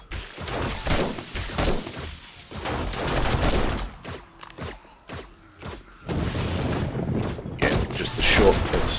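Short bursts of SMG fire in 7 Days to Die, rapid cracking volleys mixed with booms and impacts from other guns and traps, with a few quieter gaps between the bursts.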